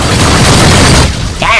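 An incoming missile explodes in Rebel Galaxy 2: a loud, dense roar of booming blasts and crackling gunfire fills the space, dipping briefly before a final burst, with a voice faintly mixed in.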